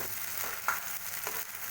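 Onion and tomato puree with capsicum and beans fry in a pan for an Indian-style macaroni, a soft continuous sizzle with faint stirring scrapes, quiet and close, no voices.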